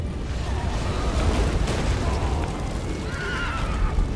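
A horse neighs in the video game The Witcher 3, a short whinny set against a loud rumbling, booming background of collapsing debris.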